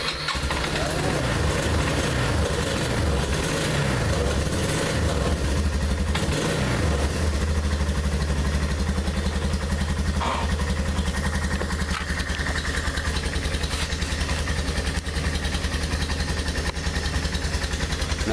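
A 2001 Yamaha Bear Tracker ATV engine cold-starts after being choked, cranking briefly and then settling into a loud, steady, close idle that runs alone for the rest of the recording.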